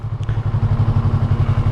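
A motorcycle engine runs close and loud with a rapid, steady pulsing throb throughout, with no voices.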